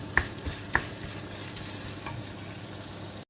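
Ground meat (giniling) sautéing in a pan, a steady close sizzle with a few sharp spoon taps against the pan, ending in a brief loud knock.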